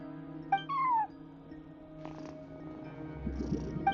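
A cat in Genshin Impact gives a short rising meow and then a longer bending one over quiet game ambience, with a few faint rustles and chimes later.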